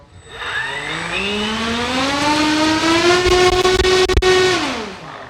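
An FMS P-40B RC warbird, a 1.4 m electric model, runs its motor and propeller up to a steady high-pitched whine that climbs in pitch, holds loud and close for several seconds, then starts dropping away near the end.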